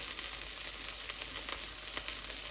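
Okra frying in a pan, a steady close-up sizzle with faint crackling pops scattered across it and no talking.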